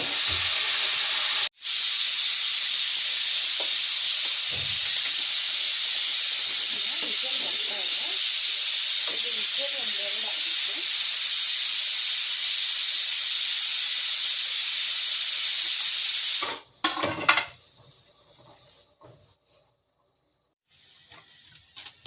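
A loud, steady hiss of food frying in a pan for drumstick-leaf curry runs unbroken for about fifteen seconds, then cuts off abruptly to near quiet.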